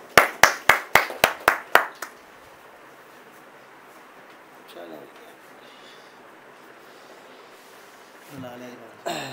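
At a literary program at Ayan Palace, Bahria Town, Lahore, a quick run of about seven sharp, evenly spaced claps rings out up close, then the room falls quiet apart from faint murmuring and a voice near the end.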